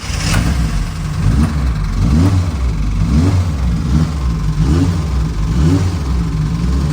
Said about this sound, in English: Got a very healthy sound to the motor. It's nearly a cold start.